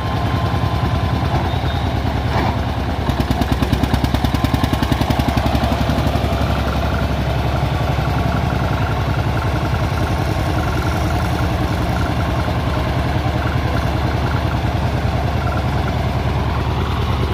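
An old tractor engine from around 1988 idles steadily, a loud, continuous low mechanical throb with a fast regular pulse, heard close and alone throughout.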